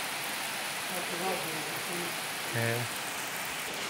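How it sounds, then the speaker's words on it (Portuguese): Heavy rain falls outside as a steady loud hiss throughout, with people talking briefly over it. "desse jeito é a chuva lá fora."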